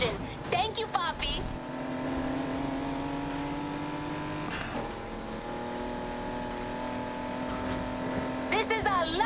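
A race car engine in Need for Speed Heat holds a steady, loud drone, with a short rev surge midway and in-game voices chattering at the start and end.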